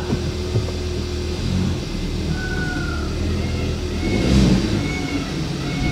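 A Hyundai i30 N-Line engine hums steadily from inside the car, with a low throbbing drone that swells briefly near the end; no one speaks.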